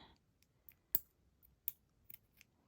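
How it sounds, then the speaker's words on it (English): Scissors cut elastic cord for a handmade bead bracelet: a few faint, sharp snips and clicks in a quiet room, close by and spaced unevenly. "Cut the elastic."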